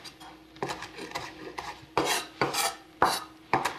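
A knife rough-chops a head of cilantro leaves on a board in a steady series of close, rasping strokes. Each cut comes with a short scrape, about every half second.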